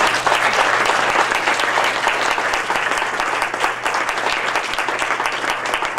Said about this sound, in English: let's give one last round of applause for our authors